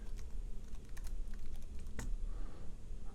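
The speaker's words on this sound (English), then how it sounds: "I'm going to just type" Keystrokes on a computer keyboard while editing a slideshow project, a quick run of close, light clicks with steady low room hum and no talking.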